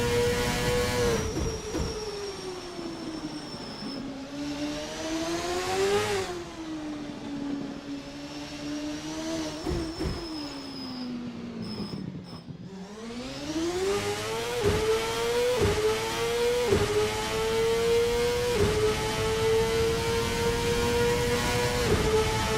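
A 1999 CART race car at Long Beach in a sim racing game screams through corners, its engine pitch climbing and dropping sharply with each shift and braking zone, loud and continuous with no talking.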